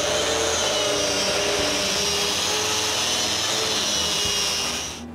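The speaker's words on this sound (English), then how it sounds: "Since I have the sander in my hands" A power sander works steadily across wooden planks, a continuous loud whirring grind that runs unbroken for several seconds before tapering off at the end.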